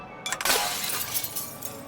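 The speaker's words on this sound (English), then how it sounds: "The glass shattered." A small glass light bulb bursts: a sharp shattering crash, then a spray of tinkling fragments that trails off over about a second and a half. The crash is close and loud, and no voices are heard.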